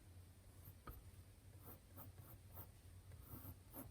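Pencil drawing on paper, shading a feather: steady soft scratchy strokes in a rhythmic back-and-forth, close up and fairly quiet over a faint steady hum.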